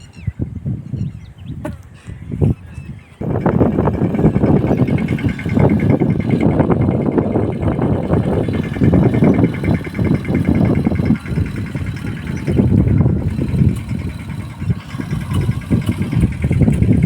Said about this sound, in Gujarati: દવા છાંટવામાં ટ્રેક્ટરનો ઉપયોગ હો